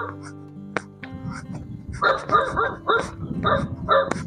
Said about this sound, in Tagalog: Nako, may aso na.